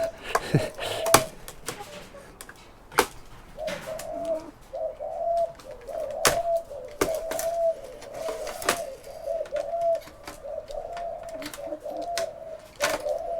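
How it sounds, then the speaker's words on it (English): A flock of pigeons coos repeatedly in a steady, overlapping rhythm at moderate distance, punctuated by sharp knocks and clicks from nearby work, with birds waiting around to be fed. "We've got a whole flock of pigeons around, all waiting for a feed as well."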